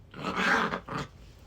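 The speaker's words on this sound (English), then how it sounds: "She hears the neighborhood dogs bark" A neighborhood dog barks outside, two short, rough, growl-like barks at moderate distance, separated by a brief gap, over a quiet background.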